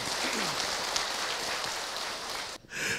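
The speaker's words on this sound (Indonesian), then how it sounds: "Tepuk tangan ibu untuk Ahilman" Audience at an Islamic religious talk on Qurban claps for the preacher, a dense steady patter filling nearly the whole stretch before breaking off abruptly near the end.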